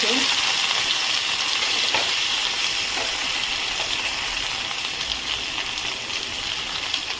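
Loud, continuous sizzling of cumin and spices frying in hot oil, a dense hiss that stays steady throughout with a few small crackles.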